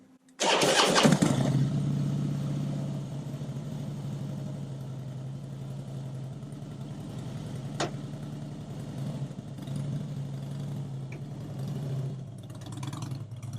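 A motorcycle fitted with a newly installed Muller power clutch kit starts up with a loud burst, then settles into a steady, close idle rumble that carries on for more than ten seconds, with no voices.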